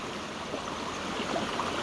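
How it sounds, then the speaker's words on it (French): A stream flows steadily close by, with a continuous even rush and gentle burble and no voices. "J'aime bien filmer l'eau, ça détend."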